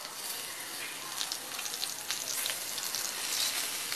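Stuffed snake gourd fries in hot oil in a pan, a steady, close, bright sizzle with small crackles throughout and no talking.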